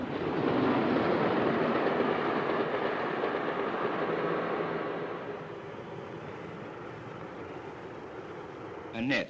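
A British postal mail train runs past, its loud rolling roar and rhythmic clatter of wheels on rails fading gradually into a quieter rumble before a brief mechanical clank at the end.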